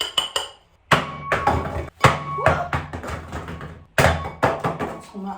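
A cheap 2,000-won Daiso plate is dropped repeatedly onto a bathroom floor with anti-slip matting, giving sharp clattering hits that bounce and rattle briefly, in several quick bursts with short pauses between.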